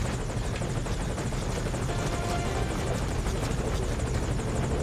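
Morpho support helicopter from Metal Gear Solid V coming in to land, a loud, constant rotor chop with rapid rhythmic thumping under a broad roar, steady for the whole stretch and without voices.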